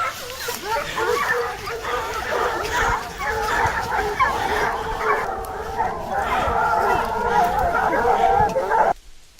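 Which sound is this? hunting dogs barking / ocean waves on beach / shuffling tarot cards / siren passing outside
hunting dogs barking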